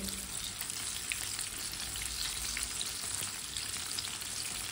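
Pakoras fry in hot oil, a dense, even crackling sizzle running steadily throughout, fairly quiet and alone without speech.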